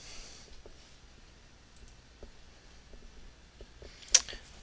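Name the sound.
computer mouse clicking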